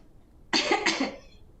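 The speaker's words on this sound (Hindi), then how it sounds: "खांसी क्यों आ रही है?" A single harsh cough, made of two quick bursts close together, loud and near, with nothing else around it.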